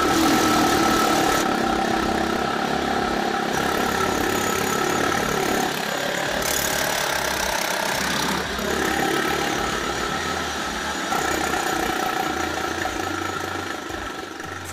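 A loud industrial machine for making bicycle cranks runs continuously, a heavy steady mechanical roar with deep low hum and shifting tones, close and unbroken, with no talk.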